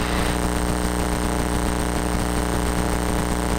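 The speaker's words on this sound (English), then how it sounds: "as the engine revs up, it gets to be a much higher pitch" A small airplane engine drones loudly and steadily during a test flight, a constant tonal hum heard from inside the cabin, without speech.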